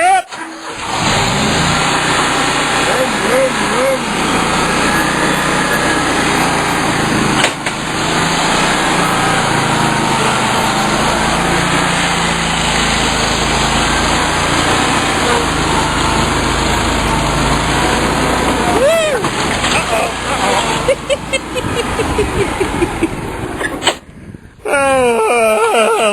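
A Toro chainsaw's small petrol engine runs loudly and steadily after a cold crank, revving up and down at times, with a brief sputter near the end; a voice speaks over it.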